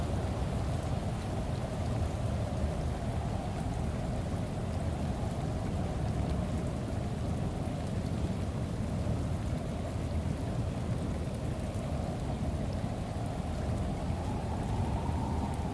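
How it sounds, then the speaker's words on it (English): Heavy rain pours steadily in a video game, a continuous dense hiss with a low rumbling undertone throughout, no voices. "it's pouring the rain"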